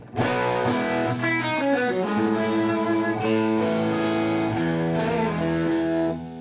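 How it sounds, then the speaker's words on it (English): A distorted electric guitar plays gritty, dirty rhythm chords through an overdriven amp, sustained and loud, with no talking, in a studio. "that right there is the amp distortion"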